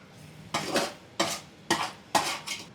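Carrot halwa with raisins and cashews being stirred in a pan: four distinct scraping strokes of a spoon against metal, evenly spaced and close, with a faint sizzle between them and no voices.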